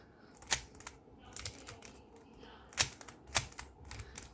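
A Qiyi MS speed cube is twisted and flicked to test corner cutting, making sharp, isolated plastic clacks at irregular intervals, with some quick double snaps, close by and otherwise quiet.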